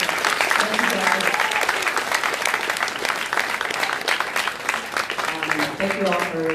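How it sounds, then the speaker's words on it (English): Sustained applause from the audience of a panel discussion on athlete activism, a thick continuous clatter of many hands at steady loudness, with voices murmuring underneath. "I think this panel certainly deserves a round of applause."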